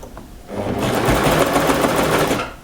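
An overlocker runs steadily through the layered shoulder seam of a French terry sweater, its motor whirring loud and continuous for about two seconds after a brief quieter start.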